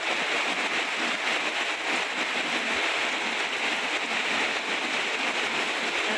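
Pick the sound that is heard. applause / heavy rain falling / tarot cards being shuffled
heavy rain falling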